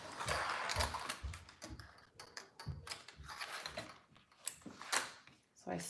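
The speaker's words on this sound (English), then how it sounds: "So I sewed that," A sewing machine stitches fabric for a dragon sling in short mechanical bursts of whirring and clicking, close up and fairly loud, with brief pauses between runs.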